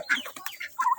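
Turkey hens cluck in short, close, fairly loud calls, a few sharp notes in quick succession with brief gaps between them.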